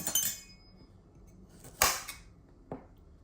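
A knife cuts a cabbage through the middle: a crunchy burst, then two sharper crisp snaps spaced about a second apart, close and fairly clear in a quiet kitchen.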